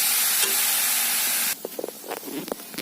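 Grated coconut frying in a pan, cooked with jaggery for til-coconut laru: a steady hiss and sizzle that suddenly drops away, leaving scattered scrapes and stirring taps.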